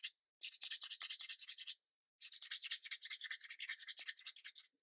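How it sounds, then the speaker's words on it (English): Blue foam is hand-sanded with a flexible sheet of sandpaper, giving two bursts of rapid, rhythmic, bright scratching strokes near the mic, separated by a short pause, with no talking. "A nice piece of sandpaper can be kind of flexible in that surface, and you're going to kind of over the top of this"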